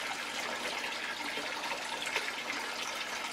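Water pouring steadily into a home aquarium during a partial water change, a continuous splashing gush that stays loud and even throughout with no voices.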